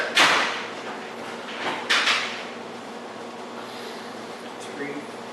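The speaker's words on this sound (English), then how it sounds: "then you can close that door" A door swinging shut indoors, giving a soft thud near the start, then further muffled knocks and rustles over faint room hum, with no speech.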